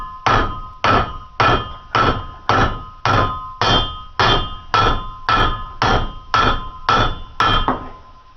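A hammer strikes the U-joint of a 2002 GMC Sierra truck about thirteen times in a steady, even rhythm, each blow a loud, close metallic whack with a short ring, with no talking.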